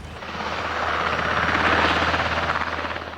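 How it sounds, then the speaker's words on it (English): A small private helicopter flies over an airshow, its rotor chop steady and fairly loud, swelling slightly as it passes nearby, with no talk. "That's a private helicopter, this is a military one."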